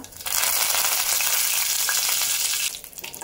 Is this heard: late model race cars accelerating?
no